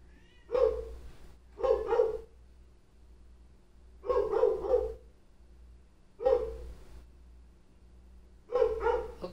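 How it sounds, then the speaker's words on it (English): Dogs bark outside in five separate bursts of two or three barks each, spaced a couple of seconds apart, moderately loud with quiet gaps between. "Of course you hear the dogs"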